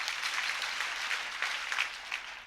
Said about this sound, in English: I was so proud to hear you clap for something